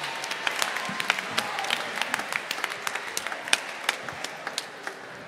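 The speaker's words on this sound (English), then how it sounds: "you just clap, clap, clap" A congregation at a Sunday gospel jazz church service claps steadily along, with distinct rhythmic hand claps standing out over a continuous bed of crowd noise.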